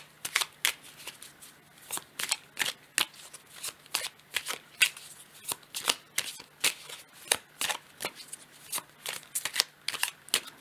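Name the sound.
shuffling and drawing tarot cards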